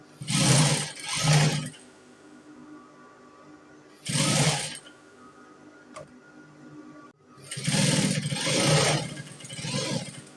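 A sewing machine stitching pleated turban fabric in short separate bursts of fast whirring, loud and close, with quiet pauses between runs.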